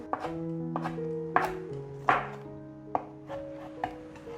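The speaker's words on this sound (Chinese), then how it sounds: "把香菇切丝" A knife cuts shiitake mushrooms into shreds on a board, about eight crisp, evenly spaced chops sounding close and clear over soft background music.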